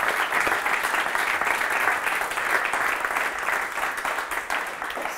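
Audience applause at a coding bootcamp demo day in Nantes, dense and steady hand-clapping filling the room for several seconds, strong throughout before tapering slightly at the end, with almost no talk.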